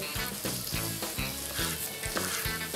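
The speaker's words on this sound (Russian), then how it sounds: "Пока обжаривается яблоко" Apple pieces fry in a pan, a dense, close sizzle with a regular rhythmic scraping or stirring pulse repeating about every half second, no voices.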